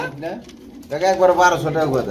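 A racing pigeon gives a close, throaty rolling coo, rising and swelling in the second half, with faint voices around it at a pigeon sale.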